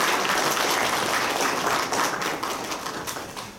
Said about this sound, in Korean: 우리 박수를 한번 모셔보겠습니다.